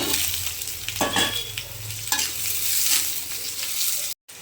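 Ivy gourd (kundri) frying in a pan with onions and potatoes, a close steady sizzle broken by a few scraping stirs, alone with no talk, ending in a brief cut to silence.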